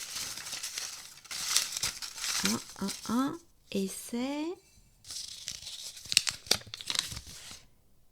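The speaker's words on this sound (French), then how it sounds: "Je prends un papier." Paper for a quiz prize draw is handled and unfolded with crisp rustling, crinkling and tearing-like crackles in bursts. Someone speaks French over and between the paper sounds.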